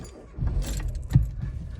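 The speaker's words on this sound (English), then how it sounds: "I need to start the car again." Keys jangle and an ignition clicks, then a car engine starts with a short low cranking burst close by, quiet overall.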